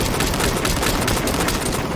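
Rapid, continuous gunfire from a weapon in the VR shooter Population: One, loud and dense without a break across the whole stretch, with no voices over it.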